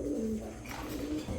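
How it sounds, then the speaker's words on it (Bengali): A white Shirazi pigeon coos in a low, throaty rolling call, close and steady for over a second, over a faint background hum. "এটা একটা সিরাজি কবুতর, সাদা সিরাজি কবুতর"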